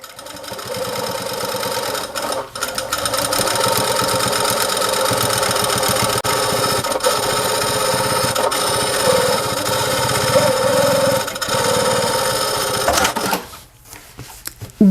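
A sewing machine runs in continuous bursts, stitching around the edge of a fabric welding cap about half a centimetre from the border; the rapid mechanical chatter is close and loud, pauses briefly a few times, then stops near the end.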